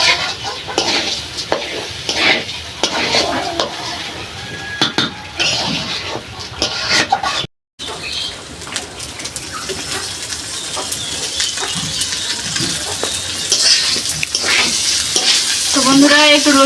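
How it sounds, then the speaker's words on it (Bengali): Rice for khichuri, with plenty of garlic, fried and stirred in a pan, giving a steady sizzle broken by scraping spoon strokes and clinks against the metal, with one short break partway through. "চালটা সুন্দরভাবে ভেজে নেব।"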